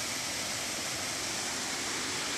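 Bayugao waterfall in Luna, Apayao, gives off a dense, unbroken roar of falling water. It sounds loud and near and stays even throughout, with no voices over it.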